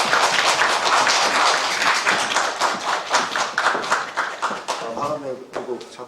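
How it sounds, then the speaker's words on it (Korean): Audience clapping and applauding for a guest speaker at a morning gathering, a fairly close patter of hands building and then thinning out, with a voice speaking over it near the end. "여러분 큰 박수 부탁드리겠습니다."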